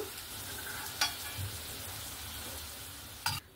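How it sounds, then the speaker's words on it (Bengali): Fish roe fritters frying in oil, giving a soft, steady sizzle that stays fairly quiet, with two brief sharp clatters at the start and near the end. "মাছের ডিম ভাজতে কিন্তু বেশি সময় লাগে না।"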